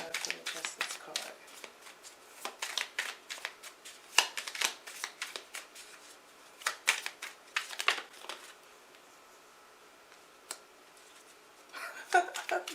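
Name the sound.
shuffling tarot cards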